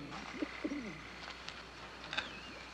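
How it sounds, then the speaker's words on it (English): Soft bird coos and brief calls nearby, a few short hooting notes with faint chirps against a quiet outdoor background. "I hear the voice of a bird."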